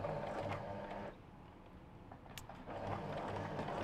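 A sewing machine back stitches a seam in stretchy fabric for a shift dress, a steady low mechanical whir that runs near and loud, drops away briefly in the middle, then starts up again.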